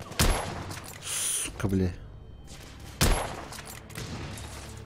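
Gunfire in The Order: 1886 video game, including sniper rifle fire: sharp, loud shots at the start and again around three seconds, with crackling fire and a man cursing in between.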